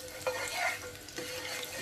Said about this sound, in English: You can hear them sizzling.